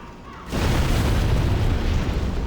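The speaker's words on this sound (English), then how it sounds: "very large explosion amounted to nothing." A very large explosion in Demon's Souls booms in suddenly after half a second of quiet and fills the rest of the moment with a loud, sustained rumbling blast.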